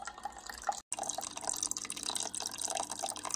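Water trickles and splashes down a small paludarium waterfall in quick, irregular drips and babbling, steady and close, with one brief break.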